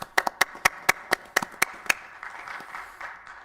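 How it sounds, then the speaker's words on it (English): About nine sharp hand claps in a quick, even rhythm, close and loud, then they stop, leaving faint background noise. "And Dave, you were going to clap for that, right?"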